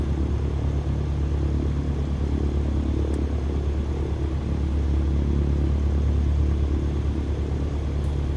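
A light aircraft engine in Microsoft Flight Simulator idles steadily after start at Wycombe Air Park, a constant low rumble that holds evenly from beginning to end with no talking.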